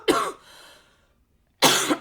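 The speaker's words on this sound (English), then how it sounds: "let me cough" Two sharp, close coughs separated by a short pause, the first followed by a brief rasping trail.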